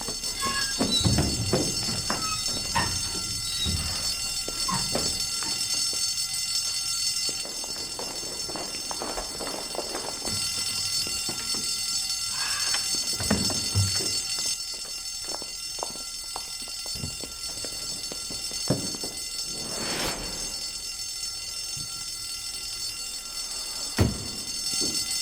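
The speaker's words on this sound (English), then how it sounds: "I think that's the fire alarm" Continuous high-pitched fire alarm ringing steadily through a building, loud and unbroken, with scattered thumps and shuffling footsteps of people moving beneath it.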